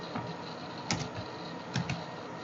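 Two quick, faint keystrokes about a second apart on a computer keyboard, a Ctrl+C copy shortcut, heard alone over a steady low hiss.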